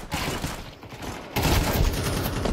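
Rapid bursts of video game gunfire crackle in dense, overlapping volleys, jumping louder partway through and staying heavy to the end.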